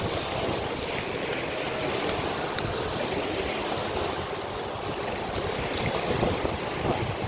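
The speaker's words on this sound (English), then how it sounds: "Beautiful breeze though. I'm fighting the headwind." Steady wind rush and broadband buffeting across the microphone while riding a bicycle along Fort Myers Beach, Florida, into a light headwind and sea breeze; continuous and fairly loud throughout, with no talking.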